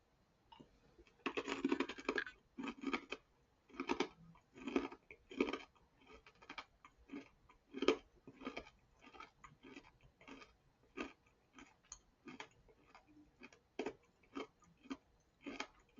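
Close, crisp crunching as fried ginkgo nuts are chewed, sharp irregular bites with quiet gaps between them.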